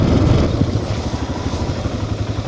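Motorcycle engine on the move along a mountain road in Meghalaya, a rough, throbbing low rumble with some rattle and wind buffeting, slightly louder at first, with no voices.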